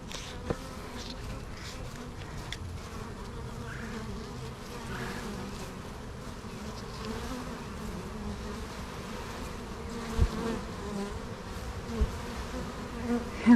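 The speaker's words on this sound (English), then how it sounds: "It literally is like a blanket of bees." A swarm of honey bees hums in a dense, continuous buzz that sounds close and fairly quiet, with a few soft knocks and rustles from handling.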